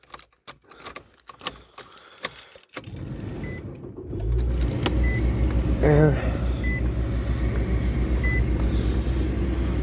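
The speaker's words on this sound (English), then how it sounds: "So we're going to start the car up." A car being started for a winter engine warm-up: keys jangle and click first, then the engine cranks and catches, settling into a steady low idle hum, with a brief spoken word near the start.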